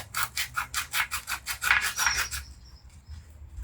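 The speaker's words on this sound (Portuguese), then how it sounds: "Ou você vem simplesmente no mesmo sentido que você está lixando a verga, certo?" Sandpaper rubs a wooden berimbau stick in about a dozen quick, even back-and-forth strokes, close and clear, before the rubbing stops.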